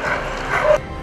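A dog gives a short, close yip or bark lasting under a second, loud and alone before it cuts off abruptly.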